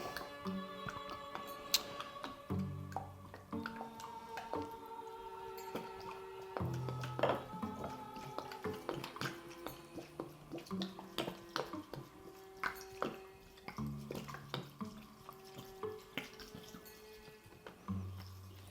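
Dit da Jow herbal liniment is poured into a bottle, giving a run of close, quiet glugs, drips and small glassy taps that come in irregular bursts, with no talking.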